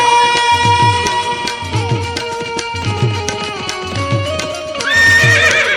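A horse neighs loudly several times over a Gujarati folk song about Maharana Pratap's horse Chetak, the whinnies repeating in a steady rhythm above sung music.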